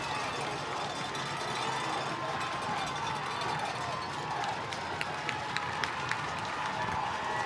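Steady, dense crowd roar fills the stands at a fourth-quarter high school football game, Corpus Christi Miller against Rockport-Fulton, with scattered claps and sharp accents over a constant wash of voices.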